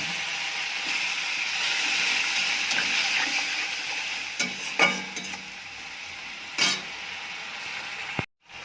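A little water splashes into spice paste frying with ginger paste, giving a steady close hiss and sizzle. Brief scrapes of a spoon stir it, and the sound cuts out abruptly near the end.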